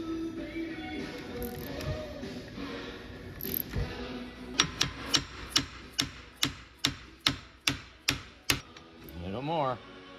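Steady metallic tapping, about a dozen evenly spaced sharp brass hammer strikes, near and distinct, following quieter mechanical handling noises.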